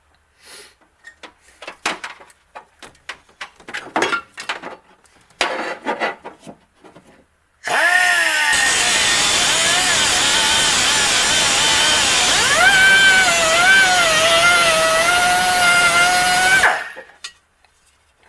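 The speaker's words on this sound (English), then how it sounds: "we're going to put a little cutoff wheel and" A small cutoff wheel grinds through the steel floor pan of a Datsun 280ZX, a loud continuous high-pitched whine lasting about nine seconds, preceded by scattered clanks and handling noises.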